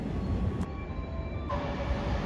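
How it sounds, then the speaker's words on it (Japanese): A JR West 113 series suburban electric local train on the Sanyo Main Line at Kitanagase Station, running with a steady rumbling roll and faint squealing tones, close and continuous throughout. "北長瀬駅11時17分普通列車山陽本線瀬戸行き113系"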